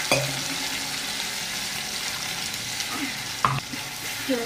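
A spoon stirs a chutney mixture frying in a kadai: a continuous soft sizzle under scraping strokes, with a sharper metallic knock near the end, close by and with no voices.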